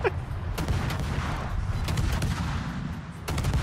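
Naval gunfire and incoming shells in a warship battle video game, a dense rumbling barrage of repeated booming shots over continuous low roar, loud and steady throughout.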